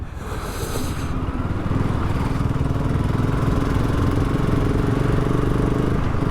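A BSA Gold Star motorcycle engine runs steadily and loudly up close, a continuous throbbing drone that holds an even pitch throughout.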